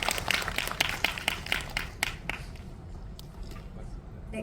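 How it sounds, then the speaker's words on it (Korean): Audience applause at a stage greeting for the Korean film Cheongseol, with dense clapping that is loudest at first and then thins and tapers off. "수어로 멋지게 저희의 이야기를 전달해주신 남진우, 김윤경님께도 다시 한번 큰 박수 부탁드립니다."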